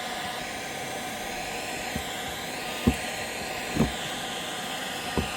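A hair dryer blows warm air steadily onto the frozen charging port of an MG4 electric car, a constant close whooshing hiss with a few soft knocks and taps breaking through.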